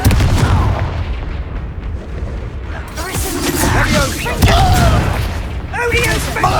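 The Confringo explosion spell from Hogwarts Legacy goes off amid a loud, dense battle din, with booming blasts and crackling impacts layered over game effects and shouted voices.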